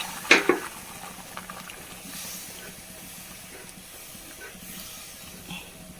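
A vegetable masala curry simmers in a pot, giving a steady soft hiss of steam and bubbling with a couple of brief clinks near the start, faint and continuous throughout.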